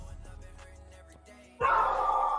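A dog gives a sudden loud, close bark that cuts in after a quieter stretch of low background noise, then rings on briefly.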